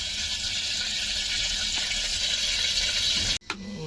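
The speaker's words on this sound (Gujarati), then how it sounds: "તેલ આવી જાય પછી આપણે આ જીરું નાખી દઈ." Cumin seeds sizzle in hot oil in a pan, a steady, dense hiss running loud and even throughout, with a sharp break near the end followed by the sizzle resuming.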